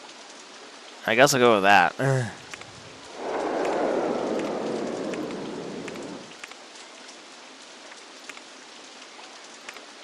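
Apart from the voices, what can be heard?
rain in the video game OpenRCT2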